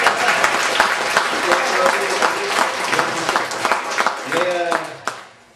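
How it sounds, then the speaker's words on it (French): Audience in a school theatre applauding Pauline, lively sustained clapping with crowd murmur and voices mixed in, loud and close, fading out near the end as a voice comes through. "Ça fait qu'on va applaudir Pauline"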